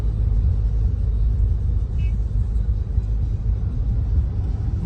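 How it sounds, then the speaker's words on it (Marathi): Heavy Friday-evening road traffic in Sonapur, Dubai, heard as a continuous low engine rumble and drone of many passing vehicles, steady and loud throughout. "बघू शकता किती ट्रॅफिक आहे, भरपूर ट्रॅफिक आहे."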